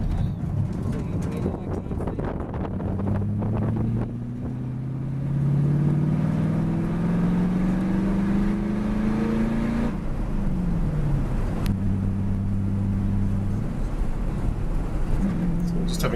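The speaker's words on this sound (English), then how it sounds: "We've got some faster cars coming through again." Fast V8 race cars lapping a track during a passenger race experience: rising and falling engine notes sweep through as cars pass and shift gears, with strong wind buffeting over a nearby in-car roar.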